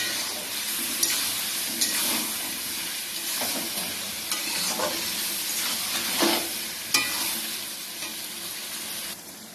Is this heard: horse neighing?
no